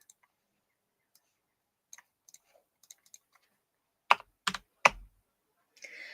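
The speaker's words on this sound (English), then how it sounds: "But yeah, I got a new keyboard." Keys click on a new computer keyboard with light interchangeable caps, starting as sparse quiet taps, then a few sharp, louder strokes and a brief rustle near the end, with no voices.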